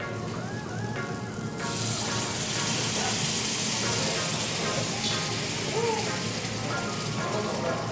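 Fish stock poured over sautéed vegetables in a Nairobi seafood restaurant kitchen, a loud steady hissing sizzle that surges and then holds.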